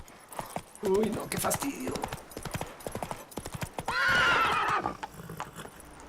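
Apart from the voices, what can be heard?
horse hooves and neigh in video game The Witcher 3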